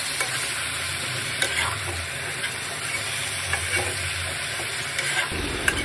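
Sweet pumpkin pieces with garlic, salt, turmeric and coriander powder fry in a wok in a village kitchen, a steady close sizzle broken by scraping stirs and occasional clicks of the spatula.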